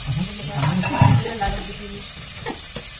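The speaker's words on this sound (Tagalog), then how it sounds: "Lutuin natin maigi yung luya para sa amoy, sa lasa, at sa iba pa" Ginger and eggplant sauté in a hot pan for the Ilocano dish sinanglaw, a soft sizzle with stirring scrapes heard close by, partly under a person talking.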